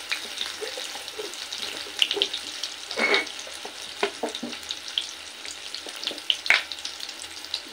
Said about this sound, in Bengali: তো প্রথমে মাছ ভাজার পর আমি আলুটা ভেজে নিই।